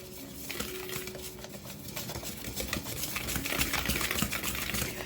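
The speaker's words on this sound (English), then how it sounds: "So we're going to mix this up really well." Cinnamon ornament dough is stirred and mixed in a bowl, giving close, continuous scraping and clattering of utensil against the dish with a dense gritty texture, no talking.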